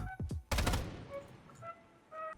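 Turret skill firing in the anime-style shooter Calabiyau: a sharp, loud burst of gunfire erupts after a couple of low thumps, then fades into faint game tones and ambience.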